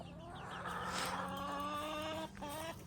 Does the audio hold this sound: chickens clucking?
yes